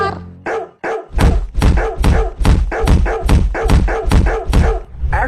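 A dog barks indoors in a rapid, loud run of about a dozen sharp barks close to the listener, with a few short thumps near the start.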